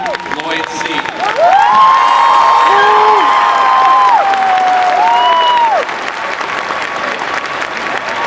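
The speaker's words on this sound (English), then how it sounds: "Let's give a very big round of applause for our 2012 valedictorian, Lloyd Sy." A graduation audience applauds the 2012 valedictorian with loud, dense clapping and scattered cheers and whoops, while a voice talks over the applause near the start and end.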